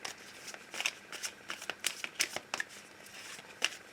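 Tarot cards are shuffled for a reading, a quiet series of quick papery riffles and flicks in uneven bursts, close and alone.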